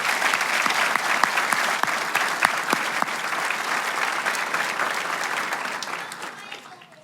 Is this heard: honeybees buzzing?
no